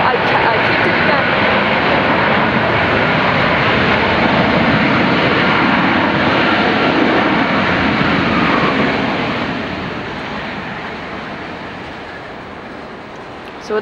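A jet airliner lands at Dulles airport behind a FedEx 757, its engine roar loud, broad and steady close by before gradually fading over the final seconds.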